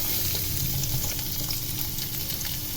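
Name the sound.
sliced onions frying in hot oil and stirred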